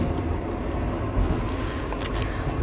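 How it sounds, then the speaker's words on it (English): Overnight train ride in mainland China, a constant low rumble and rattle of the moving carriage heard from inside, steady and fairly loud, with no talk. "we're on another overnight train ride"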